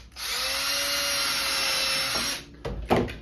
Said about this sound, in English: I'm gonna drill a little hole.